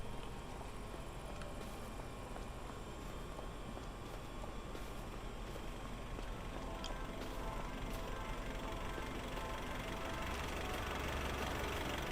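A tractor engine in Farming Simulator 25 runs with a steady, continuous drone and mechanical knock, fairly quiet and unchanging throughout, with no talk over it.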